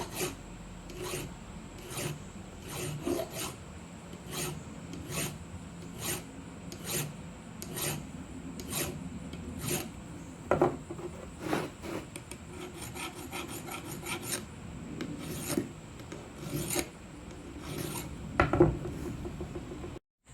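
A hand file rasps against the metal key of a tractor steering wheel in steady, evenly spaced strokes, close and moderately loud, with faint clinks between the passes.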